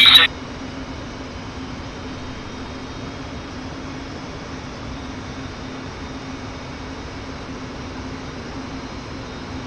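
Harrier jet engine in the DCS flight simulator, a steady loud drone with a sustained low hum throughout, opening with a brief sharp burst.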